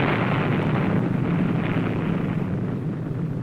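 A missile strikes an enemy cruiser in a direct hit at sea. The result is a heavy, broad roaring blast that rumbles continuously for a few seconds before it slowly fades.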